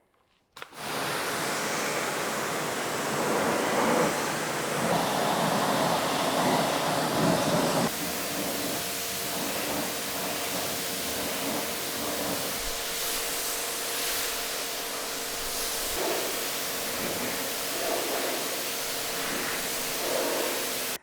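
A continuous hiss of high-pressure spraying water rinsing a car, broad and steady, with slight shifts in tone as the spray moves across the car's surface.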